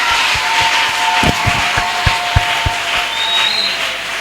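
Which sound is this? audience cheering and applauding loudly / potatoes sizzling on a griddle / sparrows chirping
audience cheering and applauding loudly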